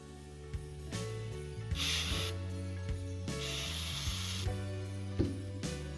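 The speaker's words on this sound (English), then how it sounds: "I'm using a can of faux snow. Shake it really well." An aerosol can of faux snow sprays onto faux poinsettias in two or three sustained hissing bursts, broken by short pauses, over steady background music.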